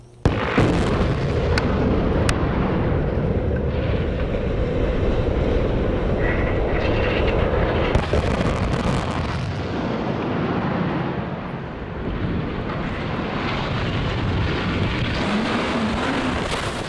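A rocket engine fires at launch after a countdown, a loud, continuous, close roar and rumble that holds steady for about seventeen seconds, thinning slightly near the middle, with no voices.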